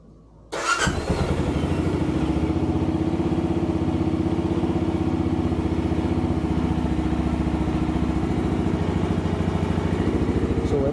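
A Benelli Imperiale 400 motorcycle engine starts after a brief quiet moment and then idles steadily, a loud, close, even rumble that holds without a break until the end.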